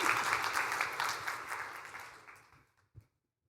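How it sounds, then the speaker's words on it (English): Audience applause at a Northwest event show: a dense burst of clapping that gradually fades out, ending with a single late clap. "So round of applause."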